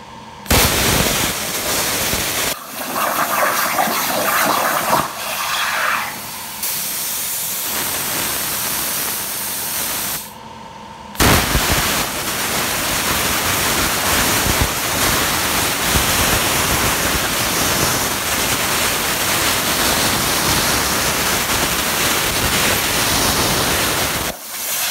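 A Torchmate 4400 plasma table cutting out a logo, a loud, steady hiss and roar with a few abrupt stops and restarts, including a brief gap midway, with no talk.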